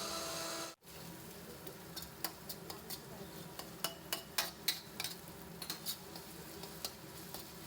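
Ginger garlic paste stirred into softened fried onions in a pan: a low steady sizzle with a run of sharp spoon taps and scrapes against the metal, close by, with no voices.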